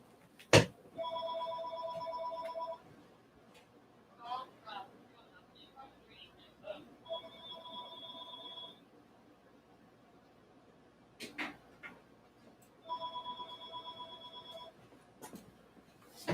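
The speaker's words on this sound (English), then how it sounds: "I got another telephone ringing." A telephone rings indoors three times, a steady electronic trill in separate bursts, faint and slightly distant, with someone speaking quietly between the rings and a few knocks and clicks.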